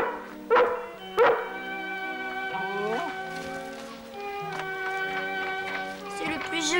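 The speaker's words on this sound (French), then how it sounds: "C'est le plus joli petit bébé chien que j'ai jamais vu." A small puppy lets out two sharp, close yips early on, followed by softer whining and whimpering tones over a tonal, music-like background.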